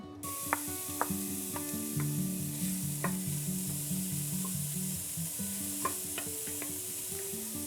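Onion frying in oil in a soup pot, a constant close sizzle broken by rhythmic metallic stirring clicks and scrapes, with no voices.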